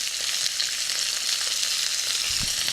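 Chopped onions, cashews and green chili fry in oil in a pan for a restaurant-style matar paneer, a constant bright sizzle with a few soft stirring knocks underneath and no voices.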